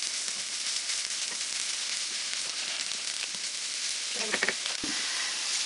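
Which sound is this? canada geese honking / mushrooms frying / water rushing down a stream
mushrooms frying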